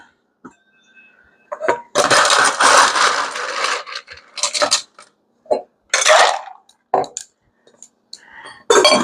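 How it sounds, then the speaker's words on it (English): Ice cubes dropped into a shaker for a margarita, a burst of loud clattering rattles followed by scattered sharp clinks and knocks, close and alone. "right, we're going to add ice."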